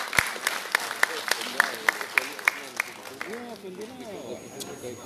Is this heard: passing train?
no